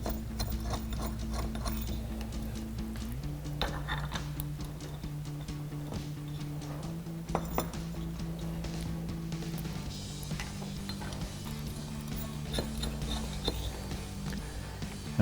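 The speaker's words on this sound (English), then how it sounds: "hook your bracket underneath of your hardtop and start threading in your bolts" Bolts threaded by hand into a roof rack bracket hooked under the hardtop of a Jeep Wrangler JL, giving soft continuous ratcheting and clicking mechanical sounds at close range, fairly quiet, with no talking.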